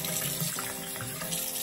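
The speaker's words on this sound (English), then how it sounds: "I'm gonna wet my face a little before I put the foaming face wash on." Water runs steadily from a bathroom tap into a sink while someone wets their face, a constant close splashing flow with no voices.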